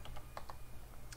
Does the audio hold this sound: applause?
no